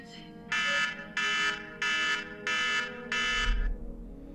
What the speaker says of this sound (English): Yes, thank you, alarm.